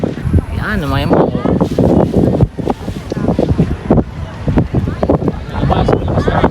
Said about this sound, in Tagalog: Labas, malakas na hangin.